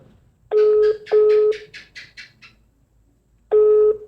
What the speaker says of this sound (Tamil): இப்போ நம்ம மிதுவண்ணாக்கு வந்து கோல் எடுத்து பார்ப்போம்